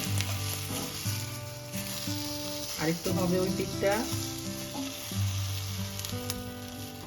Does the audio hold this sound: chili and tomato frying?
yes